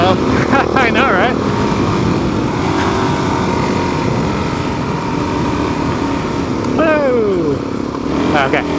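Suzuki DRZ dirt bike riding through snow on a mountain road, its engine droning steadily up close and shifting gears, with voices talking and calling out over the motor.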